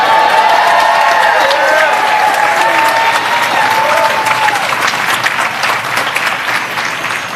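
A large audience bursts into sustained applause and cheering for Victor Calisi at the Sapolin Awards ceremony, a loud, dense wash of clapping that holds steady for several seconds, with some shouts and whistles rising out of the crowd.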